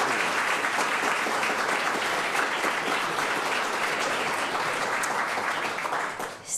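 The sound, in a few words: audience applause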